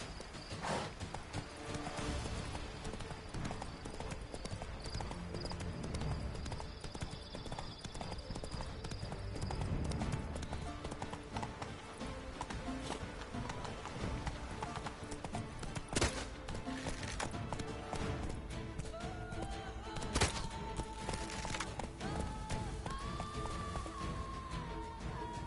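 Horse hooves gallop across the ground in The Witcher 3: Wild Hunt, a continuous rhythmic clip-clop with game sound effects layered over it.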